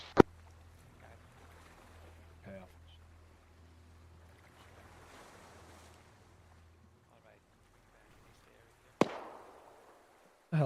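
AI soldiers firing in ARMA 3: a couple of sharp distant gunshot cracks early, then a loud close burst near the end, over quiet ambient background.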